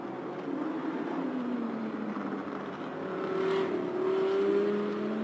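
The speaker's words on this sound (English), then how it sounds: "As we run into the Aston Martin GT4 as well." Aston Martin GT3 and GT4 race cars running on the Sepang circuit during a Thailand Super Series race, engine tones droning and climbing in pitch under a steady broadband roar, moderately distant.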